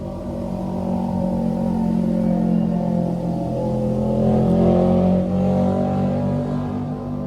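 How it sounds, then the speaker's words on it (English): A loud motorcycle engine drones and swells as it passes near a garden, rising then fading, with a low rumble throughout. "another loud motorcycle went by"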